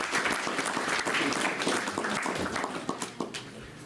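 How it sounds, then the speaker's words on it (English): Audience applauding at a Sunday evening temple love feast program, honoring a couple on their son's birthday; dense, steady clapping fills the room for the whole stretch, thinning slightly toward the end. "So give them a big round of applause."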